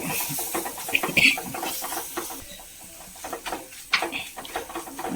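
Chilies sizzle in hot oil while being sautéed and stirred for a Kerala-style fish chili curry, a steady close hiss and crackle broken by a few sharper spatters and stirring scrapes.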